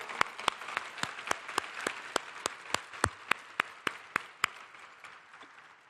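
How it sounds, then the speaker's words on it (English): Rhythmic clapping from an audience after a dance performance at an interfaith gathering, sharp evenly spaced claps in unison over a soft wash of applause, tapering off toward the end. "So please join me in one more round of applause for those beautiful dances."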